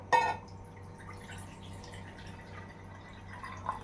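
A short splash, then a faint, quiet trickle of water draining from soaked rice over a low steady hum.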